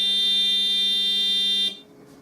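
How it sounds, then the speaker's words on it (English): An electronic alarm buzzer sounds in a transistor switching circuit demo, a loud steady high-pitched tone holding for nearly two seconds before cutting off abruptly into quiet. "if we don't disable the alarm, it'll go off again"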